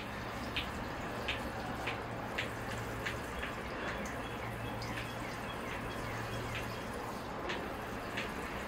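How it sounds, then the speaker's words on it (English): Water poured onto potted bonsai baobab trees in a greenhouse, with soft repeated drips and splashes spread over a steady quiet background wash. "I'll give them a good deep water and then leave them in the greenhouse here in the sunshine"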